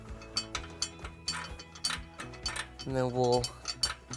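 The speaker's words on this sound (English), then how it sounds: "turn the bolt head from the other side until it is attached" A 19mm wrench turns a bolt head while a flange nut threads onto a Jeep Wrangler trailer hitch at the bumper, giving quick metallic ratcheting clicks and clinks close up, with someone speaking briefly partway through.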